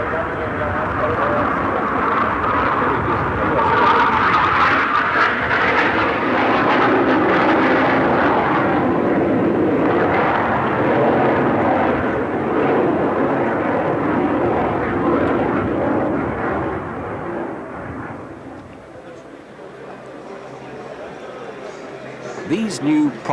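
An aircraft roars past at the 1986 Farnborough SBAC flying display, its loud, broad engine noise sustained for about eighteen seconds before fading, with a brief closer burst at the end.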